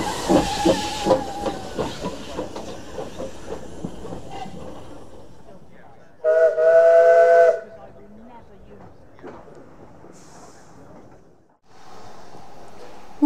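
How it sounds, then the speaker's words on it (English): A person talks, then a steam locomotive's loud whistle blasts for about a second at a heritage railway gala, followed later by a steady hiss of escaping steam. "driving the steam engine"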